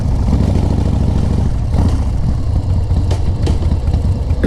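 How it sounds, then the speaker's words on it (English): An S&S engine on a chopper motorcycle runs steadily with a loud, dense low rumble that holds constant throughout, with a few brief mechanical accents and no speech. "You hear that engine? Man, that thing it runs really, really, really well."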